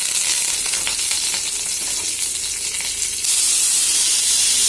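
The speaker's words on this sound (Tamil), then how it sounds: "இப்போ தாளிப்பு கடுகு பொரிஞ்சதுக்கப்புறம் கொஞ்சம் கருவேப்பிலை" Mustard seeds and curry leaves crackle and fry in hot oil for tempering, a loud dense sizzle with rapid popping close by that swells further near the end.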